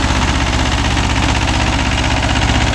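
Mahindra 265 DI tractor engine running steadily with a 36-blade rotavator attached, a loud, close, continuous low diesel throb with a regular pulsing rhythm and no voices over it.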